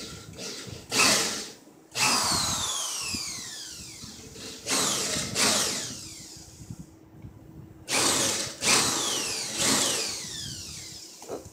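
A power drill bit widens a hole in a fireplace wall being prepared for tile, so a screw head will sit flush; several whining bursts rise and fall with short pauses between them, close and fairly loud.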